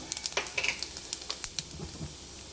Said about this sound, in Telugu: ఇంకా జీలకర్ర అయితే వేసుకుందాం కొంచెం